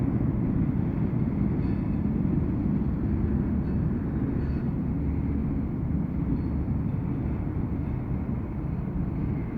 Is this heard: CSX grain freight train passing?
yes